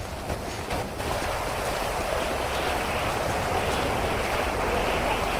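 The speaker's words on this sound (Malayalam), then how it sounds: "ഭയങ്കര മഴ കേട്ടോ" Heavy rain pours down in a dense, unbroken roar, loud and close, with no voices heard.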